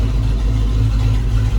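A 1973 donk car's engine runs steadily with a deep, loud rumble close by, an even low drone with no change in pace across a short stretch.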